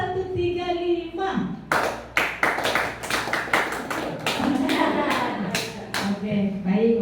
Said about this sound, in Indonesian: coba tepuk 1, tepuk 2, tepuk 3, tepuk 1, 3, 5